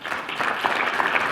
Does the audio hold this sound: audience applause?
yes